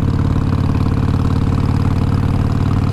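A Harley-Davidson Iron 883 Sportster idles with a deep, loping, steady rumble, loud and close, its low throb repeating evenly with no voices present.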